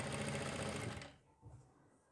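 A sewing machine stitches a seam on a kurti's gents-style collar in a quick, steady whir up close, cutting off after about a second and leaving faint handling noise.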